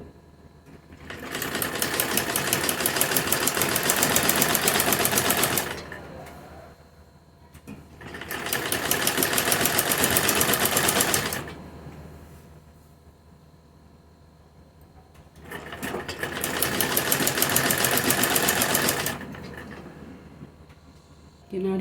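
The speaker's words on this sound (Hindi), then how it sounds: "इस तरह से इसकी किनारी पर एक सिलाई लगाएंगे" A sewing machine runs a black fabric strip along its edge in three long, loud bursts of rapid, even stitching, with quiet pauses between them.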